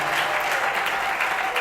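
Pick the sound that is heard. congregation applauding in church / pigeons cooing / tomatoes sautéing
congregation applauding in church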